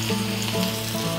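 Ginger and garlic paste going into frying onions for a mustard hilsa curry, producing a loud, close, continuous sizzle with a faint hum underneath.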